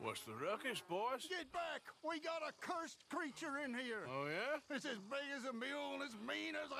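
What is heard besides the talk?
No everyday noise stands out behind the speech.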